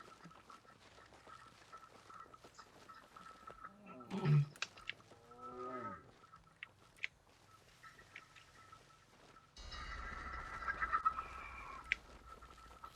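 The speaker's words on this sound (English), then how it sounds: "Freaking chicken." A chicken in the horror video game Don't Scream gives a couple of sharp, drawn-out clucking squawks midway, loud against a quiet eerie ambience, followed by a rougher noise burst later.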